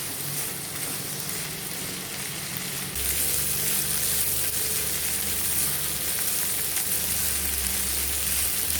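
Mixed vegetables and capsicum frying for a restaurant-style veg kadai, a steady sizzle that jumps louder partway through, with a low burner hum and occasional stirring scrapes, no voices.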